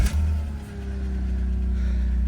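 An old high-mileage used car with 246,000 miles cranks with a sharp burst, catches and settles into a steady, close mid-pitched idle and light rev that holds to the end.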